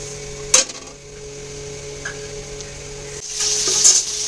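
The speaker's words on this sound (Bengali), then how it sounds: "সেই জন্য জল দিয়ে দিলাম" Water poured into a sizzling spice masala for an eggplant curry, a sudden hiss at first, then a quieter simmer before a louder, rising sizzle toward the end, heard up close.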